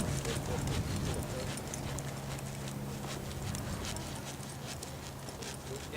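A horse walks in a riding arena during western dressage work, its hooves giving a soft steady clip-clop under continuous noise and a rider's talk.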